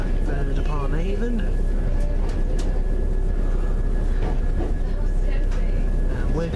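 A train standing or running at Stratford-upon-Avon station, on a Birmingham-area line, gives a steady, loud low rumble and hum with a faint high whine, while voices talk over it throughout.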